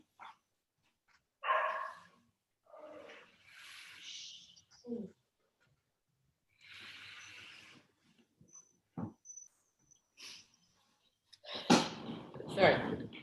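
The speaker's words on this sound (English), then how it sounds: "I'm just going to tell my dog to be quiet." A pet dog barks in scattered short bursts around a person talking, ending in a louder cluster of barks near the close.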